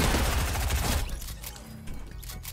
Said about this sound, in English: This guy's shooting me up with a shotgun.